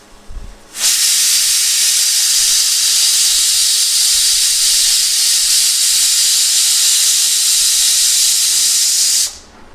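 Steam hisses loudly from a pot of boiling chickpeas and potatoes. The bright, steady jet starts abruptly, holds evenly for about nine seconds at close range and then cuts off sharply.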